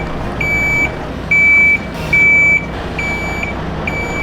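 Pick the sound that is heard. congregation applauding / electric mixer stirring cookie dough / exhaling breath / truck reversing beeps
truck reversing beeps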